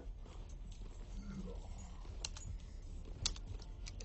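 Computer keyboard keys pressed in a continuous run of light, quick clicks and taps, moderately close and without any talking.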